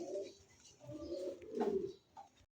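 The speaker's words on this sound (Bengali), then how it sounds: "এই মুহূর্তে স্ক্রিনে দেখতে পাচ্ছেন দুটো কবুতর" Pigeons cooing close by, a few soft, low, throaty rolling coos with short pauses between them, quiet and without voices.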